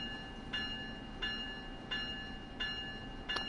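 Commuter train in Train Sim World easing into Newark Penn station on the Northeast Corridor: a steady low rumble with a high tonal whine, punctuated by regular clunks every half second or so as wheels cross rail joints.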